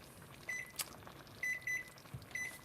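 Kitchen timer beeping faintly in short clustered bursts of high electronic beeps, a pair, a triple and then another, over a quiet room with no voices.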